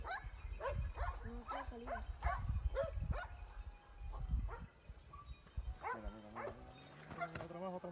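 Several hunting dogs bark and whimper below a cliff during a fight with a deer, their barks and yips repeating in a busy, echoing tangle while people talk excitedly over them.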